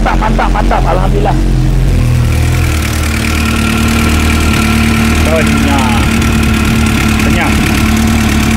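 A repaired superbike engine idles loudly and steadily nearby with a throbbing hum, while voices talk over it.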